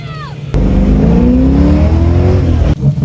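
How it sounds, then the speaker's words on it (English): A VL Walkinshaw's engine bursts into a loud, close rev after a quiet start, holding a rising, snarling drone for about two seconds before dropping back, with a faint voice at the very beginning. "Rev it, mate, rev it."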